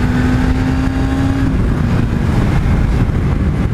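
An A2-class motorcycle accelerating in a short burst up to about 55 mph, a loud continuous engine roar with wind noise, heard up close and without talk.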